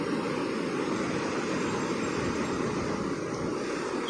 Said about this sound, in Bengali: সবসময় এভাবে ঢেউ চলতেই থাকে।